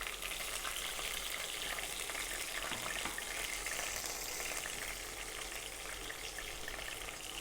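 Mustard seeds, cumin and green chillies sizzle in hot oil in a pan, producing a dense, even hiss that stays constant and close for the whole stretch.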